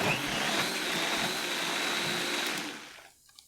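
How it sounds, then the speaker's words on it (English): A blender whirs loudly at a steady pitch as fresh tomatoes are blended for a vodka sauce, running for about three seconds before winding down to quiet with a small clunk. "I'm going to finish blending our tomatoes that we have here."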